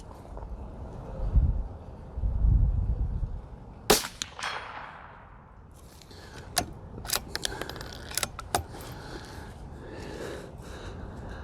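A CZ 457 Varmint bolt-action rifle fires a single sharp, loud shot, followed by a decaying echo and a few metallic clicks and handling noises.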